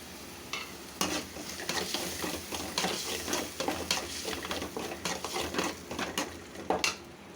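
Bamboo shoot stir-fry sautés in a pan, with a continuous sizzle and repeated scraping and stirring strokes of a utensil against the pan, close and moderately loud.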